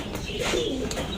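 Pigeons coo in a loft, a soft low cooing that swells in the middle over steady background noise, with no one talking.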